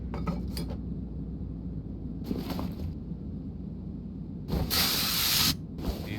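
Parts being sprayed in Car Mechanic Simulator 2021, with a gearbox on the bench, give short bursts of aerosol hiss, one brief and one longer, separated by quiet gaps.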